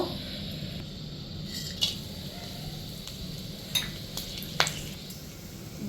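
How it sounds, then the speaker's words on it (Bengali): Whole cloves, cinnamon sticks and cardamom pods sizzle softly in hot oil in a kadai, a quiet continuous fry with a few sharp clinks of a utensil against the pan. "এইখানে আমি 3টে লবঙ্গ, 3টে দারচিনি আর 4টে এলাচ নিয়েছি। এইটা এবার ফোড়ন দেব।"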